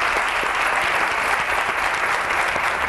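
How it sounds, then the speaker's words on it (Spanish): Studio audience applause on a Spanish daytime talk show, steady, dense clapping at full volume throughout, with no voices over it. "Un aplauso para Dolores."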